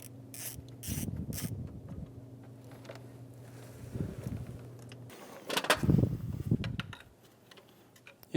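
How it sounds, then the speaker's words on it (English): Quick clicking bursts from a ratchet with a long extension and deep 12mm socket loosening an alternator bracket nut on a 2010-2015 Lexus RX350, in short separate runs at moderate level with faint mechanical knocks between them. "Using a long extension and a deep 12mm socket on a ratchet, we're going to remove the 12mm nut for the bracket bolt on the alternator."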